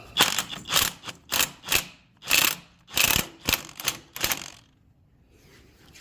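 Ratchet with an extension loosening a motor mount bolt, close and clear, heard as a series of about ten rhythmic clicking bursts in quick succession before falling silent.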